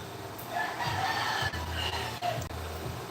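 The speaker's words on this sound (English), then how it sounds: "guys walking down the road with roosters" Roosters carried by people walking along a road crow and cluck, a drawn-out crowing call standing out over outdoor background noise.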